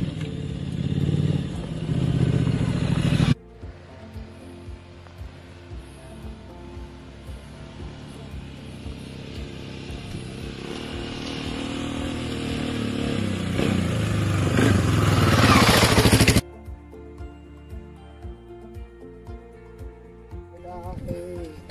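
An offroad motorcycle ride, likely a 2019 Rambler, with engine drone rising as it accelerates over rough ground amid clatter and scraping, cutting abruptly between segments.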